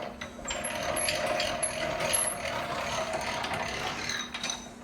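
An antique 1940s transmission jack is cranked up with a steady run of close, rapid ratcheting clicks from its pawl mechanism, continuous for the whole stretch.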